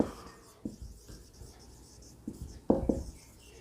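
Marker or chalk writing on a board during an English grammar lesson, a few short scratchy strokes and taps, sparse and close, with quiet gaps between them.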